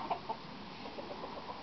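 Chickens cluck softly inside a henhouse, a couple of short clucks near the start followed by faint scattered calls over low background noise.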